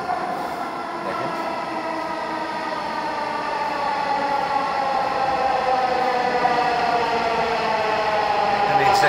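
A Bangladesh metro rail train pulls into a station, a steady rising rumble with layered tonal whine from wheels and motors that grows louder as it nears, lasting throughout with no pause.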